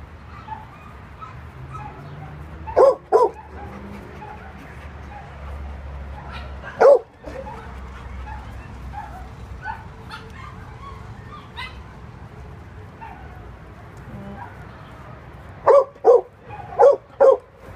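Several dogs bark in short loud bursts at an animal shelter, with a cluster near the start, one sharp bark mid-clip and a quick run of barks at the end over a low background din.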